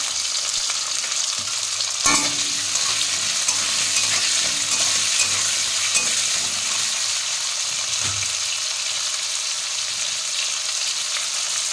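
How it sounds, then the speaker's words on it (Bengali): Potato pieces fry in a pan with a pinch of salt, giving a steady close-up sizzle and crackle that holds evenly, broken by a sharp utensil knock and some stirring scrapes. "আলু ভাজাতে অল্প একটু লবণ দিয়ে দেবো।"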